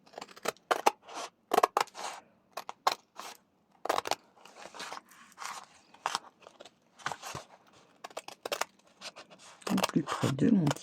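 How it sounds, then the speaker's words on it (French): Scissors snip through a small piece of cardboard in a sewing and scrapbooking project, producing a series of short, crisp cuts in irregular bursts close by, with a brief rustle of handling at the end. "je vais couper donc ma petite cartonnette au plus près."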